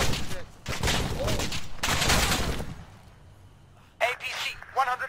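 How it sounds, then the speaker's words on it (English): Gunfire in the video game ArmA 3, sustained bursts of rifle and machine-gun fire that fade, then sharper close shots near the end, with a voice shouting over the shooting. "Enemy fire!"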